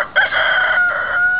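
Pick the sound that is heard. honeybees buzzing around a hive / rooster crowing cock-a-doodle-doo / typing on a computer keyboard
rooster crowing cock-a-doodle-doo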